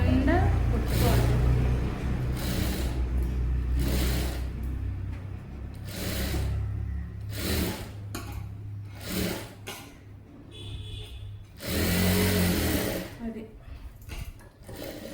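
Sewing machine stitching the neckline of a saree-fabric umbrella frock, running in several bursts of steady whirring between pauses, with someone talking over and between the runs.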